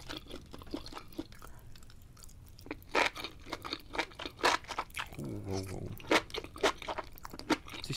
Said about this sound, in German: als ob man so auf wirklich ungekochten Nudeln kauen würde